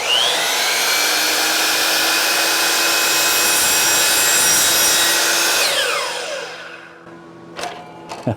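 Power saw making a first crosscut through lumber while building a garage, a loud sustained whine that holds steady for several seconds, then spins down as the blade coasts to a stop.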